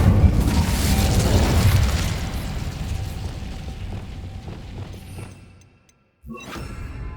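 An Incendio fire spell in Hogwarts Legacy bursts as a heavy, roaring blast with a rumbling low end that slowly fades to silence, followed by a new burst of noise.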